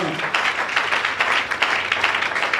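A church congregation clapping and cheering in praise, with dense, continuous applause of many hands mixed with voices filling the space throughout.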